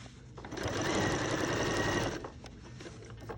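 A sewing machine hems a pair of pants with bias tape, running in one continuous close, loud whirring burst for about two seconds before stopping, with no voices.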